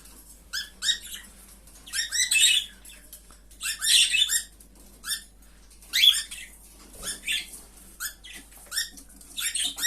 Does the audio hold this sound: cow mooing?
no